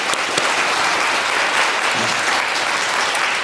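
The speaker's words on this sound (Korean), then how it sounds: "우리 박수하도록 하겠습니다" A church congregation applauds during a Sunday confirmation service, with loud, dense, sustained clapping that fills the room evenly from start to finish.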